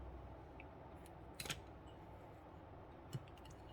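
Scissors snip through craft ribbon for a bow, two short faint cuts about a second and a half apart in an otherwise quiet room.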